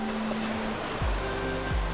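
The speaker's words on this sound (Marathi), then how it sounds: "समुद्राच्या निळसर पाण्याच्या लाटा खडकांवर हलक्या आवाजात आपटताना पाहणे ही एक अद्भुत अनुभूती आहे" Sea waves at Hedvi beach, a black-sand cove on the Konkan coast near Guhagar, washing against rocks in a steady low surging wash, with a couple of deeper swells building and breaking nearby.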